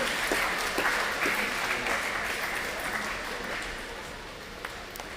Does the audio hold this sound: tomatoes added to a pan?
no